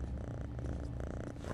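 A kitten purrs in the video game Postal 2, a soft, steady rumbling purr held close and alone for a moment.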